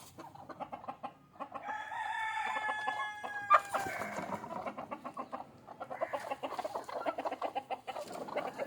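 Several country chickens cluck and squawk close by, with a rooster crowing partway through and more clucking continuing afterward.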